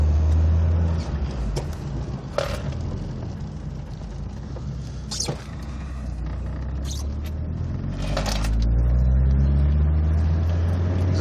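A 1989 VW Cabriolet drives along with a steady low engine hum and road rumble from inside the cabin, with occasional faint clicks and a rise in revs near the end.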